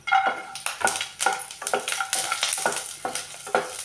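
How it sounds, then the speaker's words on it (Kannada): Dry red chillies and garlic roast in a pan for curry leaf chutney powder, heard as close, rhythmic scraping stirs over a crackling sizzle, about eight strokes with no voices. "ನಾನು ಒಣ ಮೆಣಸಿನ್ಕಾಯಿ ಹುರಿತಾ ಇದ್ದೀನಿ ಸ್ವಲ್ಪ ಇದನ್ನು ಅಷ್ಟೇ ಒಣ ಮೆಣಸಿನ್ಕಾಯಿ ಹುರ್ಕೋಬೇಕು ಇವಾಗ ಇದ್ರ ಜೊತೆಗೆ ನಾನು ಬೆಳ್ಳುಳ್ಳಿ ಹಾಕ್ತೀನಿ"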